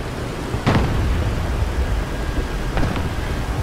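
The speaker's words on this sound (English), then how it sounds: "Oh god, artillery fire." Artillery explosions in War Thunder land as two sharp blasts about two seconds apart, each a quick burst over a steady rumbling, windy battlefield background.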